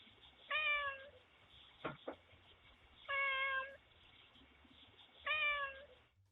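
A cat meows at a door, three long, drawn-out meows spaced a few seconds apart, with a couple of soft knocks between the first and second calls.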